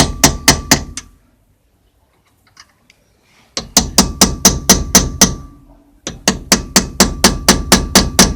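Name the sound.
hammer tapping to unpin a car wheel hub nut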